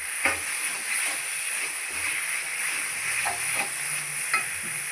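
Onions, green chilli, coriander and mint stir-fry in a pan for a chicken biryani, giving a constant close sizzle with repeated spatula scrapes and light taps every second or so, and no voices.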